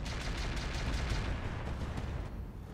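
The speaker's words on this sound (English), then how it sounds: "Some mortar." Mortar fire in the game Roguetech sounds as a run of heavy booming launches, rapid repeated thumps with a rumbling low tail, loud and close, fading out toward the end.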